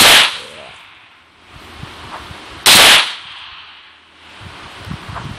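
Gunfire in the PUBG Mobile game: two loud, sharp single shots a few seconds apart, each cracking close and then fading, with quiet game ambience in between.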